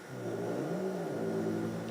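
Cats fight in an indoor hallway, giving off a drawn-out, low, wavering yowl that rises and falls in pitch. It is moderately close and continuous, with no speech.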